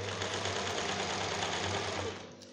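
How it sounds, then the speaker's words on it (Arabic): A sewing machine stitches along a fabric hem, running as a steady, close, continuous buzzing whir with a fast regular rhythm for most of the moment before easing off near the end. "هنا راني نخيط في المونش"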